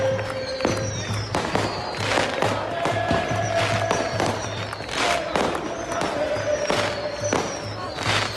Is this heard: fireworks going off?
yes